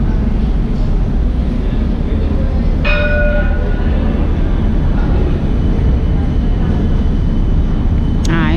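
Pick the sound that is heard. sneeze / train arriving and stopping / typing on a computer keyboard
train arriving and stopping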